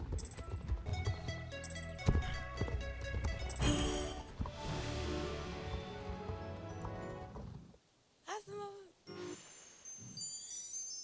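Rhythmic horse hooves clip-clop in the Star Stable Online video game, a light repeating beat under background game music that drops out briefly near the end.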